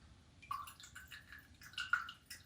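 Olive oil pours into a container in a quiet kitchen, giving soft intermittent glugs and trickling drips, faint and close, with no talk over it.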